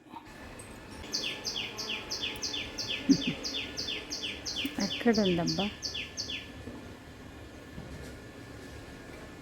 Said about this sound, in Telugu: అవి అయితే నైవేద్యం తినే పిట్టలు అటు వెళ్తున్నాయి